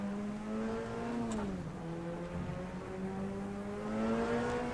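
Puma P052 prototype race car in rFactor 2 at Ibarra, its engine droning steadily at moderate volume with a slight pitch dip and recovery midway.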